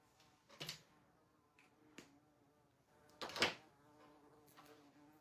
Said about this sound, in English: Good thing I'm not allergic to bees, because he's kind of scary sounding.